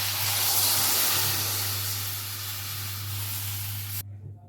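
Water poured into a hot pan of ridge gourd set off a loud, steady hiss of steam that holds for about four seconds, then cuts off sharply, leaving a faint simmer.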